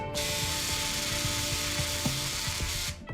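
Surgical power drive whirring steadily as a screw is driven into a tibia bone plate during a cat's leg surgery, a continuous high mechanical whine with small pitch shifts, close and alone.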